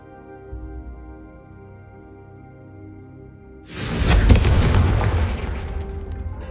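A Confringo fire spell bursts in Hogwarts Legacy after a quiet, humming stretch, erupting into a loud, booming explosion that roars and crackles before slowly fading.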